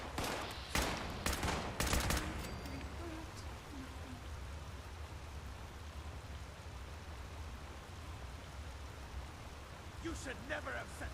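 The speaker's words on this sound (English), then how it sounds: "Stop shooting at me." A fast cluster of loud gunshots in Fallout 76 opens the stretch, then fades into low ambient noise with a few scattered later pops; someone speaks partway through.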